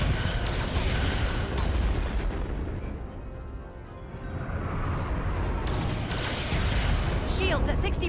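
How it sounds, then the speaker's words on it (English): Dense roaring blasts of starship photon torpedoes firing in Star Trek: Resurgence, loud and sustained with rumbling booms that dip briefly midway, then swell again with sharp whooshing effects. "Fire photon torpedoes!"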